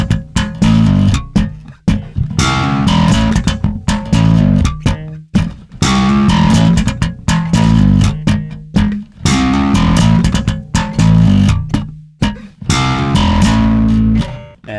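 Slap bass with popped strings and thumb strokes in a rhythmic groove, moving from the minor third to the major third. Punchy, close and loud, with short gaps between phrases.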